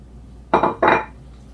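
Two quick scraping clatters of a utensil stirring cabbage in bacon grease inside a pot, close and fairly loud against a quiet background.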